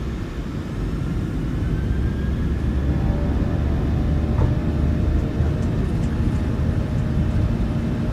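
Simulated Boeing 737-800 jet engines spool up to takeoff thrust in Microsoft Flight Simulator 2020, a loud, steady roar with a faint rising whine, alone without talk.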